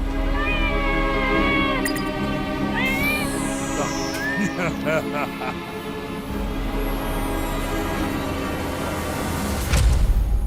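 A cat in a Hindi horror movie lets out a run of meows and wailing cries across a tense, humming film soundtrack, with brief squeaky sounds mixed in and a louder swell near the end.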